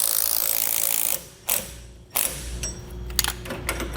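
A fastener is snugged down with a ratchet while a Blue Ox KarGard protective shield is fitted to a towed vehicle; rapid steady clicking gives way to a few separate sharp clacks and short bursts of ratcheting, heard close up.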